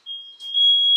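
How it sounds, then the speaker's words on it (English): A piercing high-pitched electronic kitchen smoke alarm, set off by parchment paper under a broiler, sounds loud and steady, briefly dipping before continuing, with no voices. "Parchment paper with the broiler makes fire alarms go off."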